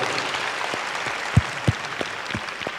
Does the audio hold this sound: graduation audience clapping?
yes